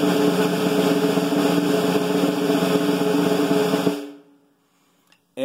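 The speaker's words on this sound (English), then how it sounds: "and play-alongs to develop this good sounding buzz roll" Snare drum buzz roll held as a dense, even rattling wash for about four seconds, close and fairly loud, then cut off into silence before a short new hit at the end.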